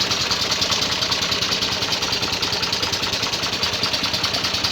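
An Al-Ghazi tractor engine labours loudly and steadily on a road, a dense rumbling drone with a rapid knocking pulse running throughout, close and continuous with no voices.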